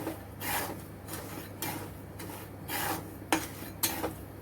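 Small chickpeas being stirred continuously while roasting in a pan, with a close, scraping rhythm of strokes about twice a second and light rattling as the chickpeas tumble.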